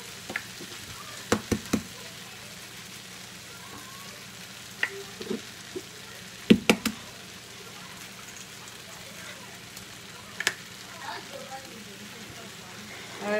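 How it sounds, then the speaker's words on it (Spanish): Eggs sizzle in a pan with izote flower for a Salvadoran-style dish, a steady low frying hiss with several sharp clicks and taps of a utensil against the pan scattered throughout. "ahora le voy a agregar los huevos. Le voy a poner 3 huevos."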